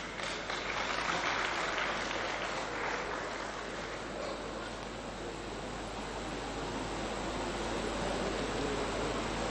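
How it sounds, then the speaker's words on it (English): Applause from the audience at a formal event, heard as a steady broad wash of clapping across the whole stretch, with no talk. "Can we give him a rousing round of applause, please?"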